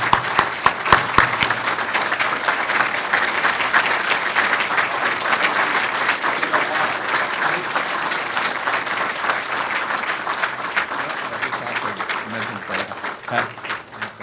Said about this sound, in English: So would you all please stand and give this man a round of applause?